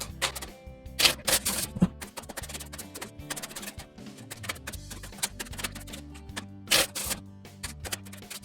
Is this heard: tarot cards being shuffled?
yes